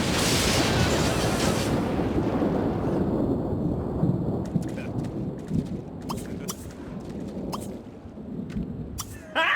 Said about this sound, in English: One of the main things this adds is weather, which means that you could finally be struck by lightning.